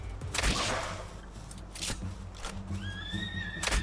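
A horse in Palworld neighs close and loud, with whinnies rising and falling over a few seconds among thuds and other game effects.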